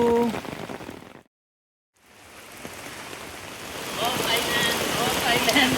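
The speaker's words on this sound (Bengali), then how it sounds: "আবার সেই প্রচন্ড বৃষ্টি" Heavy rain falls on Ross Island in the Andaman Islands as a dense, continuous wash of drops that cuts out for a moment and then swells louder again; voices are faintly mixed into the downpour.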